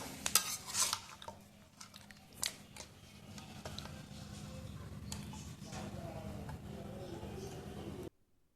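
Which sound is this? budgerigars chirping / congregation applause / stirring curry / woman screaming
stirring curry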